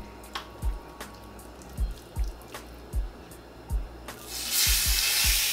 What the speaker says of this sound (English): we wanna pan sear these, not to cook them, but just to get a browning on them.